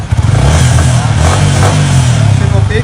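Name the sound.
motorcycle engine revving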